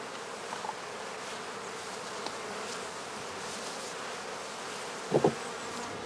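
Honey bees buzz around hives in spring in a dense, steady hum all around, with a couple of louder passes as individual insects fly close by; no talking.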